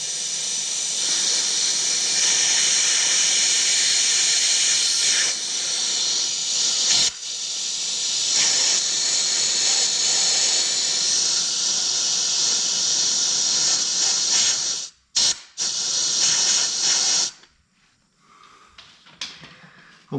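Compressed air hisses loudly and steadily into the final drive fill hole of a Yamaha Zuma 50cc scooter, a long continuous blast with a brief break midway, then several short bursts before cutting off.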